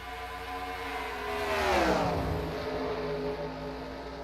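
Toyota race cars battle for the lead at Rockingham, the KBM and SR2 Motorsports entries roaring past with a rising then falling engine pitch as they sweep by close, a loud doppler pass fading into continuing engine drone.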